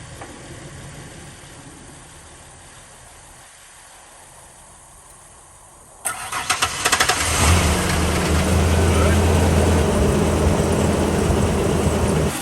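A 1994 Ford Ranger XLT 4x4 engine cranks and catches on a jump-start, then settles into a loud, steady idle with a low droning hum that carries on to the end.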